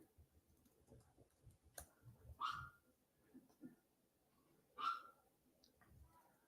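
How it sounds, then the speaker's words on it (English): A dog barks twice from a distance, faint single barks a few seconds apart, over a quiet indoor background. "the dog is barking like I predicted"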